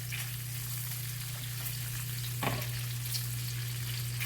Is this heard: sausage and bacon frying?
yes